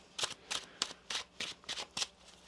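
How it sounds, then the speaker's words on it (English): Tarot cards being shuffled in quick, rhythmic riffles, about seven crisp bursts close up, with no talking. "One more shuffle here."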